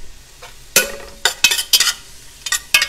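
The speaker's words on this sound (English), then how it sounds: "you can kind of hear them sizzling already." Spoon or spatula scraping and stirring ginger and garlic in oil in a pan, with sharp clanks over a soft sizzle; several separate strokes, close and fairly loud.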